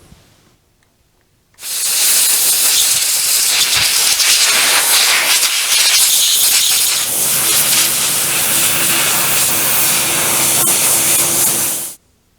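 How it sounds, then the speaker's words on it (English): A loud, continuous rush of hot water spraying to rinse bandsaw parts runs for several seconds, then cuts off abruptly. "Now I'll go rinse all this off with hot water."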